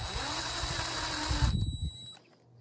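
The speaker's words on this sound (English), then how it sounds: "we'll grab our impact with the 5/16 and we'll go nice and easy in a star pattern" A power tool whirs steadily, consistent with an impact driver fitted with a 5/16 socket snugging bolts on an Evinrude G2 outboard during a water pump change, then stops abruptly, leaving near silence.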